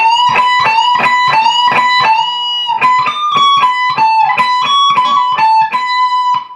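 An electric guitar plays a fast lead phrase of picked, repeated notes with bends and double stops, bright and loud with no talking.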